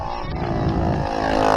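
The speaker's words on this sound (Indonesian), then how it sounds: "Ono motor berisik sih, mesti mayune alon." A noisy motorbike passes close by, its engine a steady, loud drone that grows slightly louder over the short stretch, with no talking.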